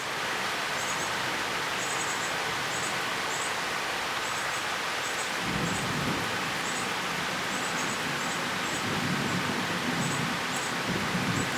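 Thunderstorm in southeastern Pennsylvania with close lightning, steady heavy rain hissing throughout and a deep rumble of thunder swelling in midway and rolling on, with birds chirping faintly over the downpour.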